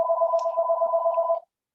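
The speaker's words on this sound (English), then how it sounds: "excuse the phone" A telephone rings indoors with a steady electronic tone, one continuous burst of about a second and a half that then stops, close and clear with no talking over it.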